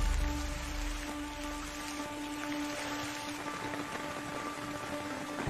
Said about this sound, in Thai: ฝนกำลังตก